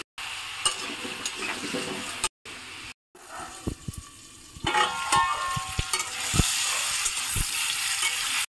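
Lentil badi sizzles in hot oil in a pan, a steady crackling fry broken by brief gaps, with sharp scraping stirs and spoon knocks that grow busier toward the end.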